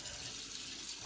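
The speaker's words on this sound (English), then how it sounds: "I will put the chicken inside the pan and put some cold water" Cold water runs steadily from a kitchen tap into a very large pan, a continuous broadband rush that holds at an even level for the whole stretch with no voices.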